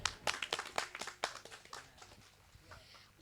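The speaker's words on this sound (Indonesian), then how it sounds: "tepuk tangan ibu bapak" Applause from an audience at a Maulid religious gathering, a brisk burst of hand clapping that starts loud and thins out, fading over a few seconds.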